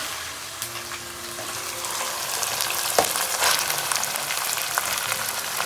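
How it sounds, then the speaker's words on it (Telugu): Chicken pieces fry in hot oil with ginger garlic paste, a soft steady sizzle that swells after a sharp knock of the utensil midway, close up and without talk. "ఇప్పుడు చికెన్ వేసుకొని ఒక్కసారి అక్కడ తిప్పుకుంటాను"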